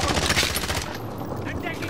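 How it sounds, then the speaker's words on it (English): Rapid bursts of gunfire in Call of Duty Warzone crackle loudly in quick succession, then trail off into a fainter rattle, with a voice talking over it. "They're taking fire!"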